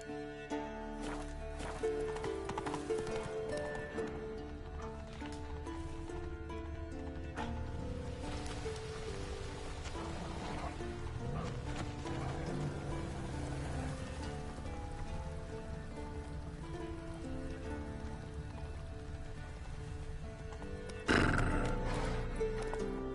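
In The Witcher 3, the horse Roach gallops with steady hoofbeats and lets out a neigh, set against a continuous patter like rain, with a louder burst near the end.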